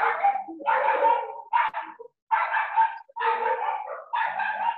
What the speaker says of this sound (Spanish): el que tenga los perros le puede poner mute al micrófono